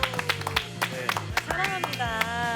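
A small group on a talk show claps for Korean Air Force special forces soldiers, with scattered individual claps in an uneven rhythm while voices talk and laugh over them.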